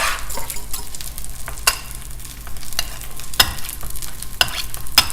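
Black garlic being whisked in a pan, giving a steady scraping, stirring sound with a light sizzle beneath and a few sharp clinks of the whisk against the pan, close and moderately loud.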